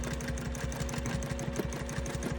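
A home sewing machine runs steadily through free-motion quilting, its rapid needle strokes making a close, even, buzzing chatter that carries on without a break and with no voices.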